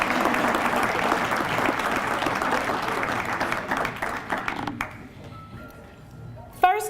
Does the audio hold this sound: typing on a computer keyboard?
no